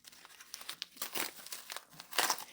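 Plastic package wrapping being cut open with scissors, giving close, irregular bursts of crinkling and tearing with a louder rustle near the end and no talk.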